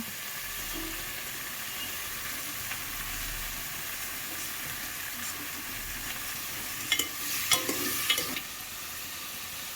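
Masala for egg tarka sizzles steadily in a pan, a constant bright hiss with a few scraping stirs of the spoon near the end, with no talk.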